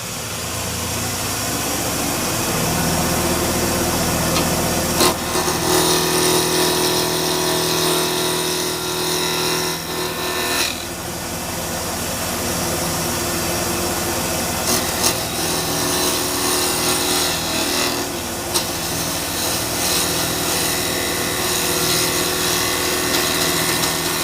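A wood lathe turning a workpiece while a bowl gouge cuts it round, giving a steady loud motor hum with a rhythmic, repeating chatter of the tool against wood and a few sharp knocks along the way.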